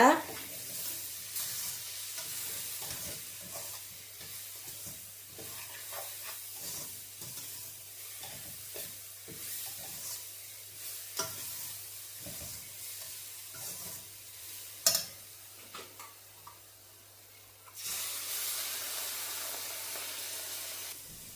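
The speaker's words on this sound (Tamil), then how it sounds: "அந்த டின்பாலை வந்து இதில் விட்டு கொள்ளுறேன் கொஞ்சம் கொஞ்சமாக கொஞ்சம் கொஞ்சமாக விட்டு நல்ல வடிவாக மிக்ஸ் பண்ணி எடுங்க" Condensed milk is worked into a coconut rava laddu mixture with repeated soft scraping and stirring strokes, close by, over a faint steady hiss that swells near the end.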